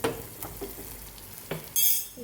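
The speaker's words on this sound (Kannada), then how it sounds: "ಇಷ್ಟನ್ನು ಹಾಕಿ ಎಣ್ಣೆಯೊಳಗೆ ಇದೆಲ್ಲನೂ ಒಂದು ಸತಿ ಫ್ರೈ ಆಗಬೇಕು" Ingredients with salt sizzle in hot oil in a pan, broken by a few scraping, clinking stirs, and the sizzle swells louder near the end; no voices.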